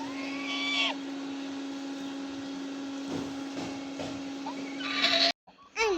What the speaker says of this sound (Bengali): এই ওয়ালটনের ব্লেন্ডার দিয়ে যতই ব্লেন্ডার করুক কোনো লাভ নাই বুঝছেন, ব্লেন্ড হবে না। কি আওয়াজ দেখেন